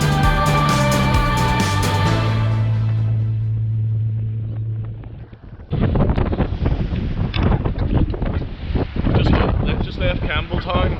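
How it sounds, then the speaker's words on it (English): Strong wind of 20 to 22 knots buffets a sailboat at sea, loud gusty rushing and blustering right at the microphone, with a tonal musical passage at the start before the wind takes over. "it's blowing 20 knots, well up to 22 knots"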